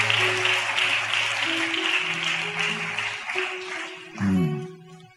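A church congregation applauds loudly for several seconds, with a sustained keyboard chord underneath and a brief swell of sound near the end.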